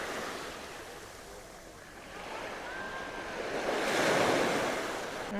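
Sea waves wash onto the shore at Paleokastritsa beach on Corfu, a steady surf hiss with light wind that swells into a louder breaking wave near the end.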